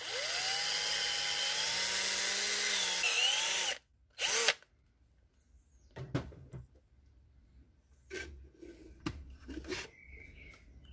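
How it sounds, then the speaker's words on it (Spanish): A power drill boring a hole through a plastic cap, a loud steady whirring grind for nearly four seconds that cuts off, followed by a brief burst and then faint handling clicks and rattles of the cap, no speech. "voy a utilizar una tapa plástica, le abro un hueco y la voy a enroscar acá adentro"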